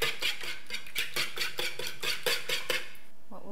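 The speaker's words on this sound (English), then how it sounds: "And this will whisk." A whisk beats three eggs and a teaspoon of vanilla extract in a bowl, rapid rhythmic metallic clinks scraping the sides about four times per second, close and steady.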